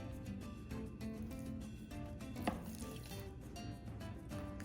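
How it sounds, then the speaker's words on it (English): A knife chops skirt steak into bite-sized chunks on a cutting board, with quick repeated knocks in an uneven rhythm and one sharper clack midway, close and fairly soft. "I'm going to cut them into small bite-sized chunks"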